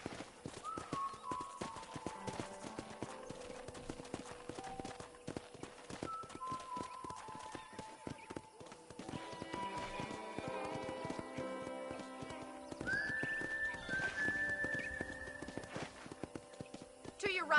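Horse hooves clip-clop in Red Dead Redemption, with a steady mid-distance rhythm sounding under game music and a voice talking over them.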